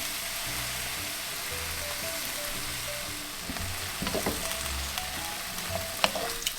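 Sweet and sour sauce hits a sizzling chicken stir-fry in a hot pan, giving a steady, close crackle and hiss with a few sharper spits and pops near the end.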